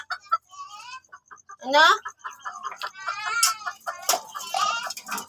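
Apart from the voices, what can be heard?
pet chicken clucking while being caught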